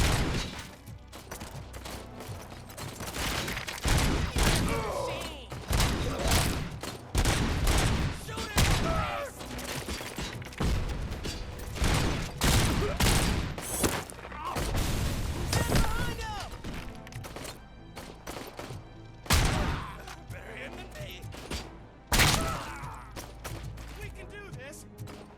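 RoboCop: Rogue City gunfire, repeated loud shots and bursts in close succession with thuds and mechanical clanks, continuous through the stretch with voices speaking over the fight.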